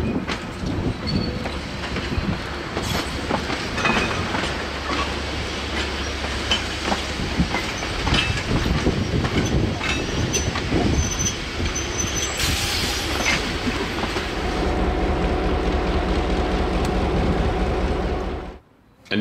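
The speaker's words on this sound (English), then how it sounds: "the train was propelled over to the yard for stabling overnight." A train hauled by DA-class locomotives rolls steadily into a rail yard in New Zealand's South Island, with rumbling wheels, clanking cars and occasional squeals from the rails, continuous and fairly close, until it cuts off at the end.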